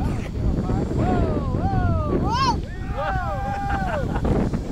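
Small RC EPP foam Yak 55 model airplanes flying in a combat session, their high whining motors rising and falling in pitch as they swoop past, with wind noise and people talking throughout.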